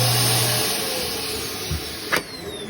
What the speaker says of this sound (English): central vacuum. So you just turn it on,